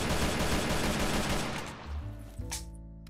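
A Kalashnikov rifle in the Techguns Minecraft mod fires a full magazine in a rapid burst lasting under two seconds, followed by quieter mechanical clicks of the reload.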